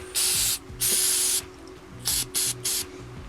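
Carburetor cleaner sprays into the jets of a portable generator's carburetor in five short, close hissing bursts separated by brief pauses.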